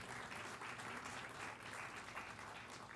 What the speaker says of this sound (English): that is worthy of a round of applause as well